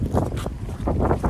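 Gusty wind on a hiking trail buffets the microphone, a rough low rumbling that rises and falls in quick bursts.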